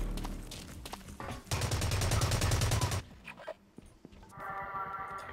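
Automatic gunfire from guns in the video game Blacklight Russia: a dense sustained burst of rapid shots for about a second and a half, then scattered single shots and mechanical clicks, ending in a steadier buzzing rattle.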